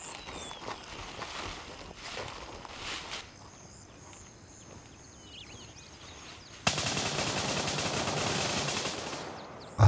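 Gunfire in the tactical shooter game Gray Zone Warfare, a few sharp shots early followed by quieter ambience and then a sudden burst of heavy, sustained firing near the end, with insect-like background hiss and no talk.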